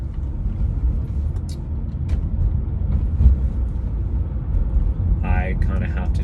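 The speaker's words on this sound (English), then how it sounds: "There's a big ass truck over there." A big truck rolls past outdoors, its deep engine rumble building and holding, with a brief hiss near the end, while someone talks over it.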